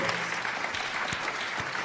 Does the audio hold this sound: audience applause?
yes